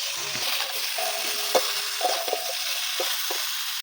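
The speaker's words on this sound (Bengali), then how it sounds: "ভালো করে কষিয়ে নিতে হবে লাউ আর আলু দিয়ে।" Bottle gourd and fried potatoes with turmeric are stir-fried in a pan, giving a steady sizzle broken by several sharp scrapes and clinks of the spatula.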